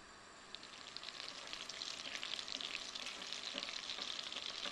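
Sixty grams of butter melts in a saucepan with a steady, close, bright sizzling hiss that builds slightly after the first half-second and holds evenly to the end, with no voices.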